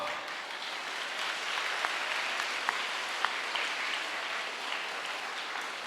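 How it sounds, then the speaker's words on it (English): Soft, distant applause from an audience at a polytechnic college event honoring student performers, a low steady patter of many hands with a few sharper claps standing out. "Shall you give a big round of applause?"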